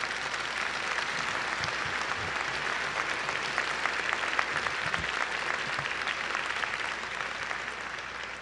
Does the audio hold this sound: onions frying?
no